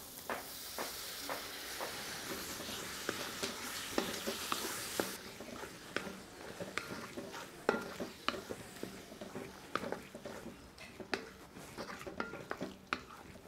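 Chopped tomato is stirred into sautéed onion and ginger-garlic paste in a pan: soft sizzling underneath, with frequent sharp scrapes and clicks of a spoon against the metal, close and fairly quiet.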